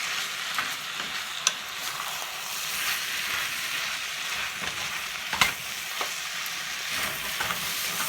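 Stir-fried rice being stirred in a hot pan, a steady sizzle with spatula scrapes and a couple of sharper clanks, close and continuous without talk.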